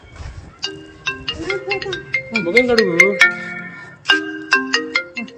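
A mobile phone rings with a melodic electronic ringtone of repeated bright chimes during a Holi celebration at home, loud and close, with voices talking over it.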